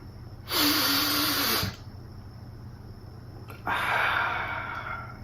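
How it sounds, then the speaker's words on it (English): Breathing exercise with a loud, rushing inhale, a quiet held pause, then a long audible exhale, all close to the microphone over a low steady hum. "You inhale for 4 seconds. You hold for 4 seconds, and you exhale for 4 seconds."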